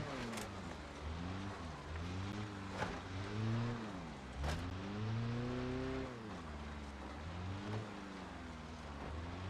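A wrecked car in BeamNG.Drive drives slowly with loose metal scraping along the ground. Its engine drones and rises and falls in pitch under a constant gritty scraping hiss.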